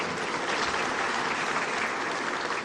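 An audience at the 30th Afreximbank Annual Meetings claps in steady, dense applause, a continuous close wash of hands with no pauses.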